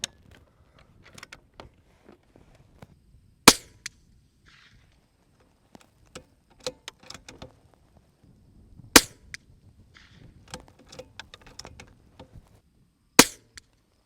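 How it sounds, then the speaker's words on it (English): Unsuppressed shots from a Bergara B14 carbon rimfire trainer rifle: three sharp, loud cracks spaced several seconds apart, with faint clicks and handling noises of working the bolt in between. "I'm going to take the suppressor off and shoot another group."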